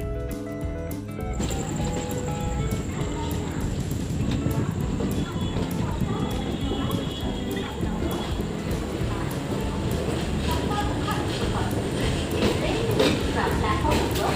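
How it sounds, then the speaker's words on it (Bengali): Garib Rath Express (12881) pulling into platform 2 at Kharagpur station, a continuous rumble of rolling wagons with rhythmic wheel clatter and a high whine, steady throughout at moderate level. "আমাদের ট্রেন এখন এসে পৌঁছেছে খড়গপুর স্টেশনের 2 নম্বর প্ল্যাটফর্মে"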